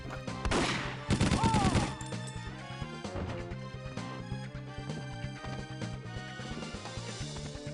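Gunfire in the Nintendo 64 game 007: The World Is Not Enough, rapid bursts of shots early on over continuous game music and effects.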